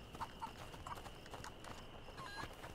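Horse in the video game A Plague Tale: Innocence, heard as a series of soft, irregular hoof clops and shuffles at close range, faint and low in level.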